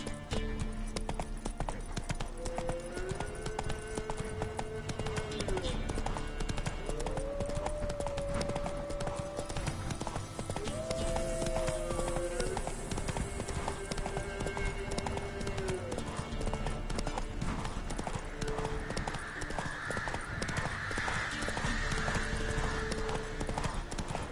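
A horse gallops in The Witcher video game, its hooves beating in a fast, steady clip-clop throughout, with occasional tonal calls over the rhythm.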